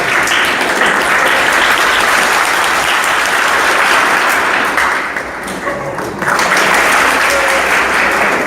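An audience claps together in a dense, sustained burst of applause that briefly thins partway through before swelling back to full strength.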